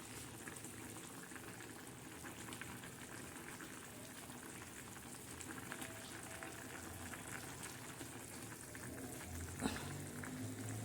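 A pot of dal with ridge gourd curry simmers steadily, a soft continuous bubbling hiss, faint and close, with a brief clink near the end and no talking.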